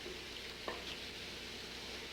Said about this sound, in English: So keep stirring, boiling all the while until it reaches the desired thickness.